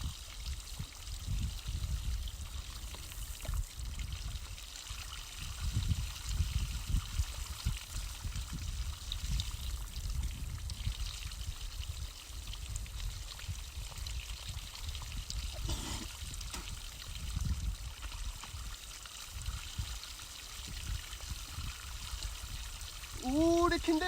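Shower water runs steadily in Iceland, a soft continuous spray and trickle close by, fairly quiet, with a brief voice near the end.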